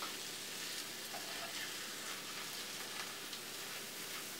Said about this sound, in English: So I'm gonna just take my time and stir these eggs in here.